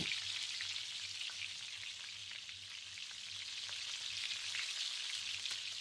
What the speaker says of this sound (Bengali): এখন সব কিছুটা একসাথে কিছুক্ষণ কষিয়ে নিচ্ছি